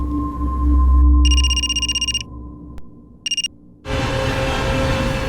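A telephone rings indoors with two bursts of rapid electronic trilling tones separated by a short pause, loud and close, followed by a sudden wash of broadband noise.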